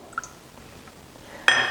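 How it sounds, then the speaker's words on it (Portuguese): Water poured into a saucepan while preparing choux pastry dough: a soft, sudden splashing rush starts near the end and continues steadily, after a few faint clinks of utensils in a quiet kitchen. "E agora você vai colocar numa panela 35 ml de água"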